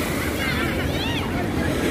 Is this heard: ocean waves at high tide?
yes